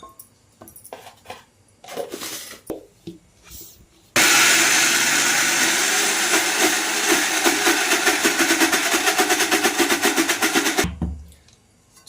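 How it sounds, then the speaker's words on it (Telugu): A kitchen mixer grinder blending flattened rice (poha) with a little water kicks on after some light clattering, running as a loud, steady motor whir with a gritty churn for several seconds before cutting off. "ఇలా పిండి మిక్సీ పట్టేసుకున్నాను."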